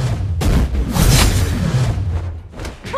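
A turret is destroyed in a video game, heard as a loud booming blast with rumbling low thuds and debris crackle, followed by fainter game effects.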